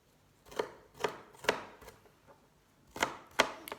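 A knife chops through food on a board while making çiğ köfte, six or so sharp cuts in an uneven rhythm, close and fairly quiet with no talking.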